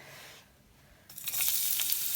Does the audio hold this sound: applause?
no